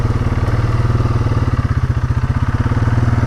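ATV engine chugging steadily while riding a quiet wooded trail, a close, loud, low pulsing putter with a rapid regular rhythm that grows a little rougher toward the end.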